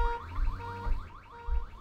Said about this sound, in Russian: Да не бибикайте.